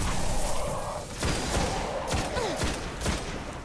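Gunfire in the video game Destiny, several bursts of shots at a steady distance over a continuous background of game noise and effects.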